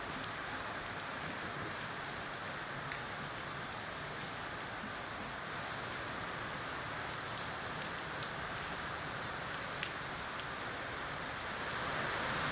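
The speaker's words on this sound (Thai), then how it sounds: "ฝนตก" Steady, dense rainfall patters continuously on surfaces nearby, with occasional heavier drops standing out against the constant hiss.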